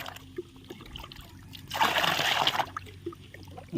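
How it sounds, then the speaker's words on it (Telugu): Water poured onto plants, a short gushing splash and trickle lasting under a second, fairly close against quiet outdoor background. "మంచిగా చెట్లకు వాటర్ పోస్తా అండి ఇట్లా"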